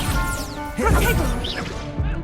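Protego shield spell cast in Hogwarts Legacy: a bright whooshing magical burst with a sharp impact near the middle, set over busy battle noise and layered game effects.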